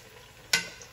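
Half a stick of butter hits a hot pan while cooking lobster-stuffed tostones, giving a sudden bright sizzle about halfway through that keeps crackling softly to the end, with no talk.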